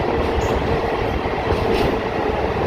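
A Guntur–Vijayawada MEMU passenger train runs on a branch line, filling the space with a loud, continuous rumble and rattle of wheels and carriages, with faint squeals above.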